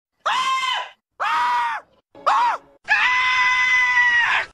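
Loud, high-pitched screams in four bursts, three short ones and then a longer sustained shriek, with brief gaps between them and no talking.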